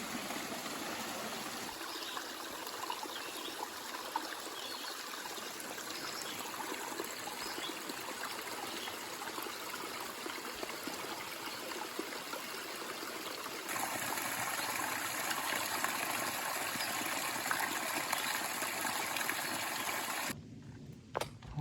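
A mountain stream trickles and rushes steadily beside a hillside trail on Mount Moosilauke on the Appalachian Trail. The close, continuous watery hiss runs unbroken for about twenty seconds, then cuts off abruptly.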